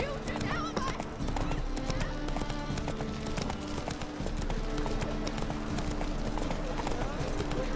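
Roach the horse in The Witcher 3: Wild Hunt, hooves clip-clopping in a steady galloping rhythm close by, with a whinny and a voice speaking over the hoofbeats.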